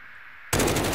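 Sudden loud burst of rapid automatic gunfire in the video game Call of Duty Modern Warfare, starting abruptly halfway through after quiet and continuing dense and close to the end.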